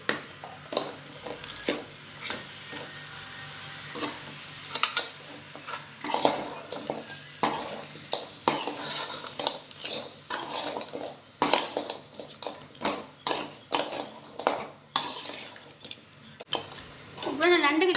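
Crab is stirred and tossed in a cooking pan for a crab fry, a utensil scraping and clinking against the metal in irregular bursts, close by, with occasional voices in the background.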